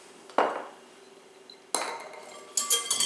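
Whisking Crisco shortening into a mixture in a bowl, heard as a few separate metallic clinks and scrapes against the bowl, fairly faint and spaced apart.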